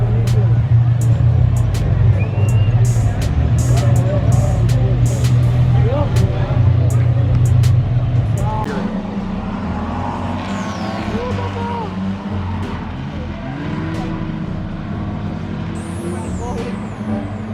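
Loud, steady roar of race car engines droning close by on a speedway in Lismore, Australia, dropping in intensity partway through, with a brief whine of passing motors near the end.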